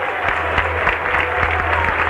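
Brief burst of crowd applause in a football stadium during a Paraguayan league match between Guaireña and Sportivo Ameliano, dense clapping with distinct thumps, heard alone for about two seconds.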